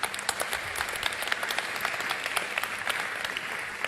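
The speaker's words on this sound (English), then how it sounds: "can we do another round of applause?" A crowd applauds in a steady, dense wash of clapping that fills the whole stretch without pause, with only faint voices beneath.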